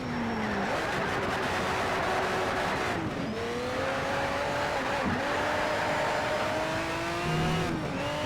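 A McLaren race car laps a track in Need for Speed: Shift on PS3, its engine whine rising and falling through gear changes with tire squeals and skids over a constant, close, loud roar.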